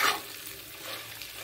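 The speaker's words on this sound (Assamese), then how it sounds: "এইখিনি আগতে ভালদৰে ভাজি ল'ম" Greens such as mustard leaves fry in a pan with a soft continuous sizzle as a utensil stirs and scrapes through them, close and moderately loud, with no talking.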